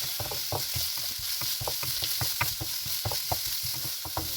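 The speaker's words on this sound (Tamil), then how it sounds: "வெங்காயம் வதங்கிட்டு தக்காளி ஆட் பண்ணிக்கலாம் ஒரு சின்ன தக்காளி" Chopped onion and a small tomato are being sautéed in an oily pan, with a continuous close sizzle and repeated spatula scrapes and taps at a steady rhythm and no talk.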